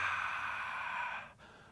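A long, breathy exhale during a squat exercise, close and audible, fading out before a short pause and a softer breath.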